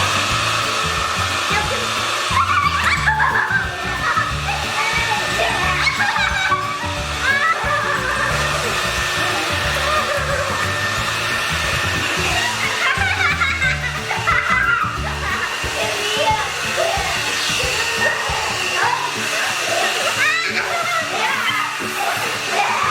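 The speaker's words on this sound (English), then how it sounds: "Now I'm going to use a hair dryer." A hair dryer blows with a steady whooshing hum throughout, close by, floating ping pong balls while people talk and move around over it.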